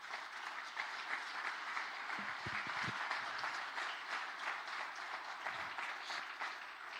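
Congregation applauding during a church sermon, a broad continuous clatter of many clapping hands with a few low thumps partway through, steady in level and fairly distant.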